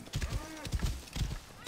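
A horse gallops in Assassin's Creed Origins, with hooves thudding in quick, rhythmic clusters, moderately loud and close, over a constant rushing background.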